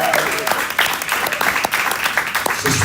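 A crowd applauds its panelists at a town hall and rally, loud and close, with sharp individual claps inside the dense ovation and faint voices mixed in.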